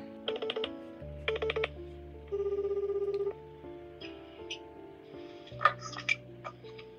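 Phone call tones while dialing a number: short beeping bursts, a rapid ringback pulse, then clicks and faint electronic chirps.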